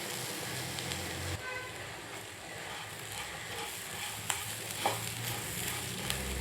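Curry leaves fry in hot oil in a pan for coconut chutney, making a continuous close crackle and sizzle with a few sharper pops and no talking.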